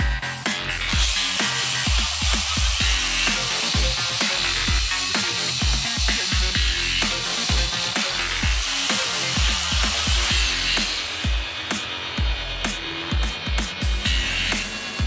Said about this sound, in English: Measure the required length of the protective cover and cut the end using an angle grinder.